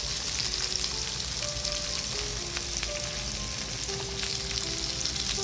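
Japanese long leek for yakitori sizzles in a pan on low heat, a steady close crackle of frying with a few faint squeaks, and no voices.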